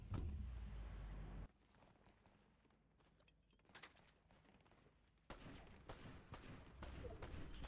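Gunfire in Fortnite, with a loud burst at the start followed by quieter scattered shots and a renewed run of sharp cracks near the end, sounding fairly close.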